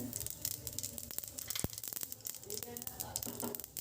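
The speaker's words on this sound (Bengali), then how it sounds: "দিয়ে দেব হাফ চামচ সর্ষে ফোড়ন সর্ষেটাকে প্রথমে এইভাবে একটু নেড়ে চেড়ে ফুটিয়ে নিতে হবে" Mustard seeds spluttering in hot oil in a pan, a quiet, irregular crackle of small pops and sizzles, with someone talking over it throughout.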